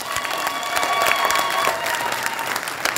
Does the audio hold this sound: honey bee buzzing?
no